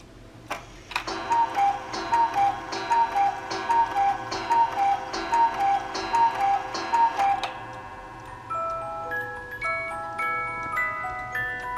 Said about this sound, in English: This is our family cuckoo clock